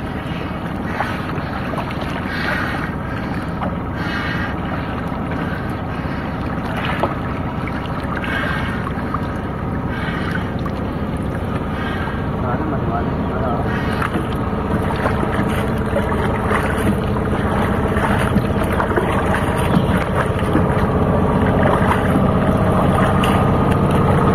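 A boat engine running out on open water, a steady, loud broadband drone mixed with gusting wind noise for the whole stretch, with no voices.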